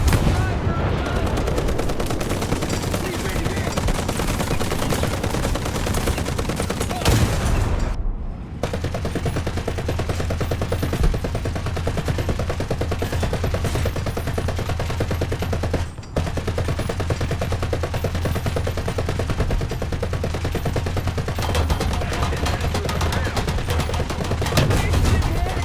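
Sustained machine-gun fire in the War Thunder video game, loud and continuous with dense rapid bursts, broken by two brief gaps, a steady low engine drone beneath.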